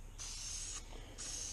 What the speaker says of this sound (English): So we'll spray this and let it sit, because this ain't, you know, this is like contact cement that you're spraying.